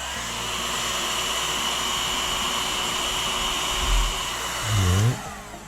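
A hot air blower heats glue on a snow globe base, making a steady close airy roar throughout, with a couple of brief handling thumps near the end.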